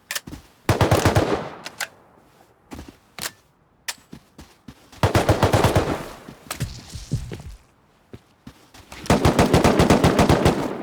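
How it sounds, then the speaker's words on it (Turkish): Bursts of automatic gunfire in a video game clan base raid, several loud rapid volleys separated by brief pauses and scattered single shots, with no talking. "Arkadaşım birini vuruyor. Ben de çatıdakini vuruyorum."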